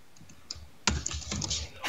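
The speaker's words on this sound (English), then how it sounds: "I can hear you typing." Soft clicking of keys on a computer keyboard, a few scattered taps followed by a quick, busy burst of typing, fairly quiet.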